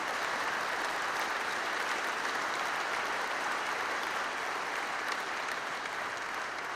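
A crowd inside a cathedral bursts into a long, steady round of applause after a choral event, the clapping heard from a distance with an even, dense texture that barely fades.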